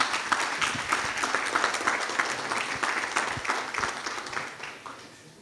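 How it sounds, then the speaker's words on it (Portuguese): An audience at an evening testimonial meeting claps to welcome a speaker to the stage, a lively burst of many hands with distinct sharp claps, gradually thinning out and fading by the end. "com uma forte salva de palmas."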